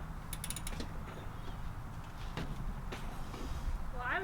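A socket ratchet clicks on a motorcycle's oil drain bolt during an oil change, a quick burst of close, metallic ratcheting followed by scattered clicks and creaks against a steady background rumble.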